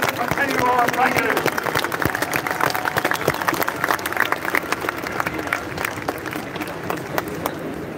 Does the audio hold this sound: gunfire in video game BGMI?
no